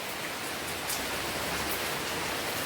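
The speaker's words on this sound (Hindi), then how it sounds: "बारिश होने लगी है बहुत तेज़" Sudden heavy rain pours down in Goa, a dense, steady hiss of falling water with no pauses and no voices.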